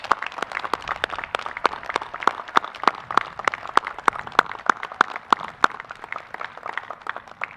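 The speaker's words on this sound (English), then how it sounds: "Please join me in a round of applause." A graduation ceremony crowd at the United States Coast Guard Academy commencement claps for a graduate, scattered claps forming a steady, moderately loud round of applause with no speech over it.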